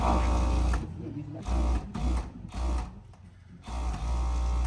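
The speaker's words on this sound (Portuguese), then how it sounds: "Aqui eu vou passar o overlock aqui na ponta." An overlock sewing machine runs in several short bursts while finishing a fabric edge on pajama pieces, loud mechanical whirring with pauses between runs.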